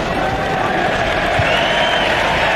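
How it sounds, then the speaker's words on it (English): Stadium crowd at a 2007 Australia versus Wales rugby test match sends up a continuous, loud roar of cheering and applause with a broad, washed-out texture, and a commentator's voice may sit underneath. "Some cheering from the crowd."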